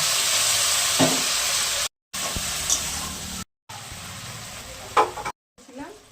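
Spice masala for a fish curry frying in a pan, a steady hissing sizzle with occasional stirring scrapes, broken by brief cuts of silence.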